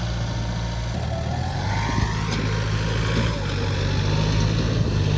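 A tractor pushing earth runs with a steady, low diesel engine hum, holding a constant loud drone throughout with faint shifts in load.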